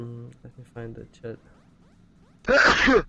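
A single loud, close human sneeze bursts out near the end after someone speaks quietly in short phrases.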